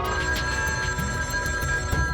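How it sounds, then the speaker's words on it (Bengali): A cartoon telephone rings in short repeated bursts, a steady electronic trill that stays loud and close with no talk over it. "এখন আবার কে ফোন করছে?"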